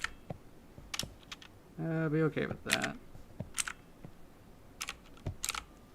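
Keys clatter on a computer keyboard in irregular bursts of separate clicks across the whole stretch. A voice speaks briefly partway through.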